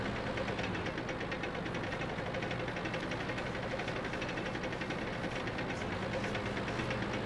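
A tank engine rumbles steadily while driving in World of Tanks, a continuous low mid-range drone with a knocking vibration that stays loud and even throughout, with no talk over it.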